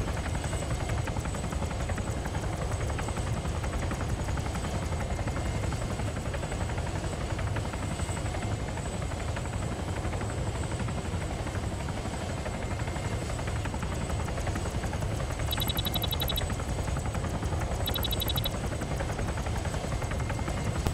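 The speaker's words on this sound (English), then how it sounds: "Yeah, chopper's heading east northeast." A helicopter in the military video game Arma 3 (Exile mod) drones continuously as a dense, steady rotor and engine roar, with a couple of faint high electronic beeps late on and no talk.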